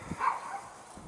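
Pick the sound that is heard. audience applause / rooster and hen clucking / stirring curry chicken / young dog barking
young dog barking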